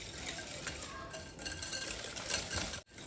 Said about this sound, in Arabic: صافي هنا غادي نحرك مزيان الصفر ديال البيض مع السكر